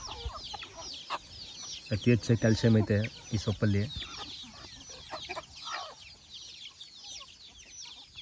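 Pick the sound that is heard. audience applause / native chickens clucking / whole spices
native chickens clucking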